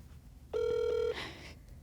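A telephone tone for a prank call, one sustained steady beep lasting about half a second, then a brief noisy burst, clear and close with no talk.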